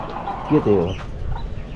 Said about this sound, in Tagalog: Ayan, yung mga sisiw. Maliliit na manok.